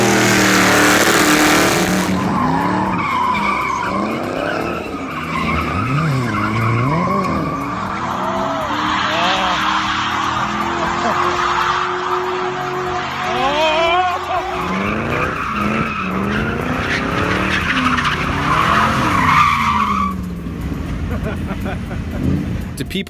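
A Ford Crown Victoria P71 Police Interceptor, an old ex-police car, drifts with repeated loud tire squeals and skids over rising and falling engine revs, close and continuous, ending in a brief quieter stretch.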